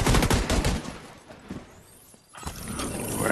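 Rapid automatic gunfire from a fast-firing gun in The Division 2, a dense burst of loud shots that thins out, goes quiet, then picks up again.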